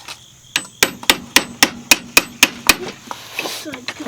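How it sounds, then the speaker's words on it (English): Sharp hammer blows ring out in a quick, even series of about ten strikes, loud and close, followed by softer taps. "Hammer."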